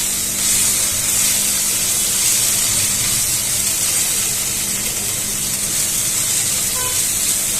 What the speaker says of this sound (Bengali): আদা রসুনটা ভালো করে আমি একটু কষে নেবো যাতে আদা রসুনের কাঁচা গন্ধটা চলে যায়